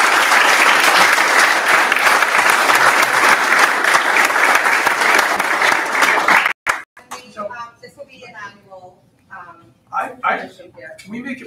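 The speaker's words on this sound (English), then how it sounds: "So let's give them another round of applause." Loud, dense applause from a school board meeting audience honoring students, steady for about six seconds, then cutting off abruptly before a speaking voice takes over.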